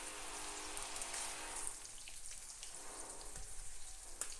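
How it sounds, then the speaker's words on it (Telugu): French fries frying in hot oil, a steady dense crackling sizzle with fine popping throughout, close and continuous with no voices. "నూనె వేడెక్కిన తర్వాత ఫ్రెంచ్ ఫ్రైస్ వేయాలి."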